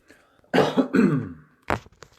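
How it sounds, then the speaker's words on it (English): Several rough, wet smoker's coughs come in quick succession close up, followed after a short pause by one more hacking cough. "I've got a terrible smoker's cough"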